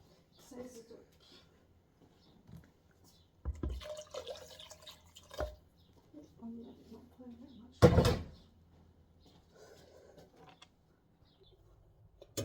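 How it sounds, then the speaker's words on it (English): Water is poured into a pot of beef and broccoli soup, giving a few short splashing and dripping bursts with one louder splash near the end, amid quiet kitchen clatter and faint voice sounds. "I'm just gonna pour water in it."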